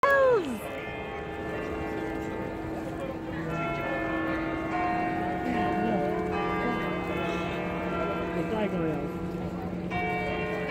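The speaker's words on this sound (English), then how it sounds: "They ring the bells!" The large bells of Notre Dame in Paris ring out in overlapping, resonant strokes, their long humming tones sustaining and layering over one another.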